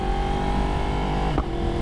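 A 2021 or 2022 Yamaha R1 sport bike runs close and loud with a steady engine hum, and a brief sharp crackle near the end from the exhaust popping.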